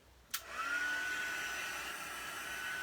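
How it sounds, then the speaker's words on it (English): A heat gun drying black ink switches on with a click and blows a steady, whining rush of hot air that holds constant, close and alone. "take my heat gun and I'm going to dry this black ink and then go back over it again"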